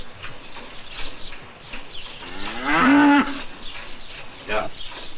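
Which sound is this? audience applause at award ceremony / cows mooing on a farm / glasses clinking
cows mooing on a farm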